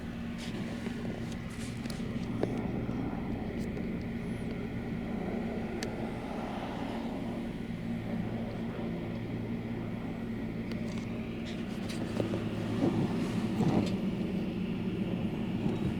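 Steady engine drone from a 2015 Nissan Juke 1.6 fitted with a Landi Renzo LPG system, running on petrol while moving, heard from inside the cabin as a continuous low hum with faint road noise and no talk.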